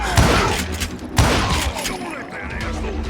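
Gunfire in the Western shooter Call of Juarez Gunslinger: two heavy, booming shots about a second apart, loud and close, each trailing into a rumbling decay over a dense game soundscape.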